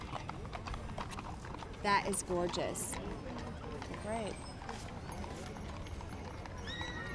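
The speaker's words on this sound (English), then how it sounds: "Pulled by the fabulous Royal Crest Frisians" Royal Crest Friesian horses pulling a carriage in an old-fashioned Christmas parade, hooves clip-clopping in a steady rhythm on the street beneath a commentator's lively talk.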